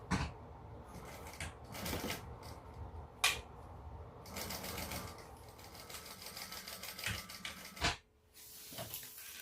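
A sewing machine stitches across the top edge of a Veronica bag at the seam allowance, running in quick bursts separated by brief pauses, with small clicks and handling noises in between.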